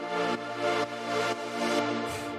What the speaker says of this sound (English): After that, we have the pad, which sounds like this.